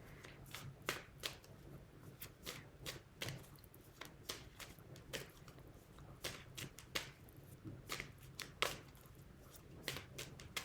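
A tarot card deck is shuffled by hand, producing quick repeated riffling flutters and soft slaps in a steady rhythm, close and fairly quiet, with no voice over it.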